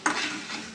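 A brief scrape of a spoon stirring prawn fry with curry leaves in a hot pan, a soft sizzle behind it.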